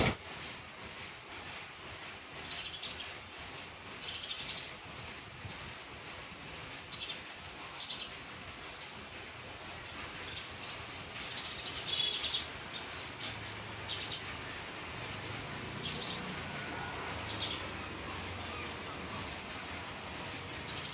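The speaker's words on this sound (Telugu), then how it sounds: "ఈ పక్షులు ఎప్పుడు మా ఇంట్లోనే ఉంటాయి." Birds chirp faintly and intermittently on a home veranda, their brief high calls nearly buried under a steady wash of broadband background noise that runs throughout.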